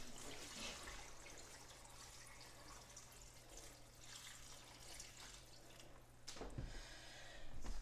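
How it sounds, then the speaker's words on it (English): Water runs steadily from a tap into a pressure canner pot, a soft continuous splashing rush, with a brief louder clatter near the end. "And then we're going to fill it up with water."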